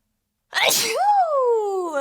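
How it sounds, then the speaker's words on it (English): A single loud sneeze bursts out after a moment of silence, with a breathy explosion trailing into a drawn-out voiced tail. "I'm about to sneeze."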